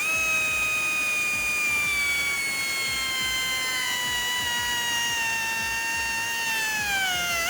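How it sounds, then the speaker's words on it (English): Power tool cutting at the weld of a 2018-2020 Mustang GT exhaust heat shield, a continuous high-pitched whine with a slowly falling pitch, loud and steady throughout, dipping near the end. "we're gonna make a cut right back here on the weld so that we can flip this heat shield up"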